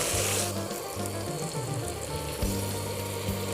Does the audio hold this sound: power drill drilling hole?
no